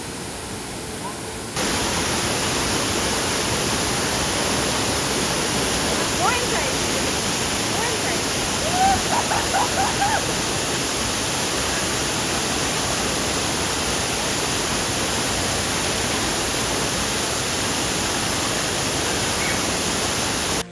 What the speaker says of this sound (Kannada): ಎಂಥ ಒಳ್ಳೆ ವಾಟರ್ ಫಾಲ್ ಮಾರೆ